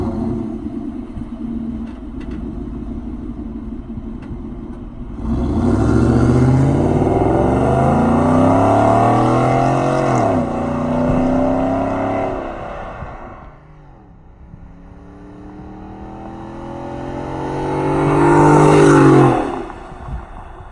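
Pickup truck fitted with an aftermarket exhaust idles with a low rumble, then revs up twice in long climbing roars that fall back to idle, heard nearby and loud without talk.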